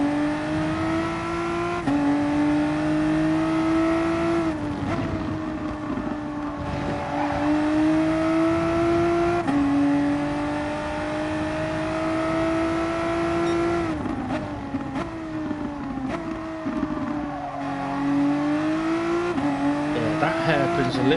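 A racing video game car holds a loud, continuous engine note that rises and falls through gear changes, with tires squealing through corners and a hairpin, and no break in the sound.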